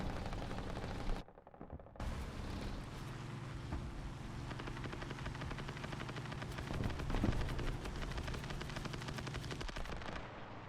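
Dense, continuous gunfire with rapid automatic bursts and sharp shots in a competitive multiplayer video game match, loud and sustained with a brief dropout near the start, with no talking.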